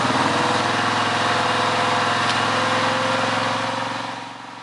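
A Cadillac Northstar engine being tested after head gasket repair runs loud and steady at close range, with a continuous throbbing rumble that eases slightly in the final second.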